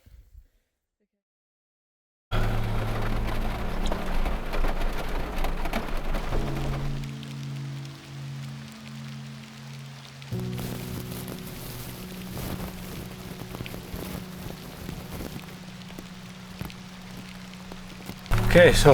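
Heavy rain falls steadily during an overland trip in Türkiye after a night of mud. A dense patter and hiss starts after a brief quiet opening and continues throughout, with a few spoken words over it.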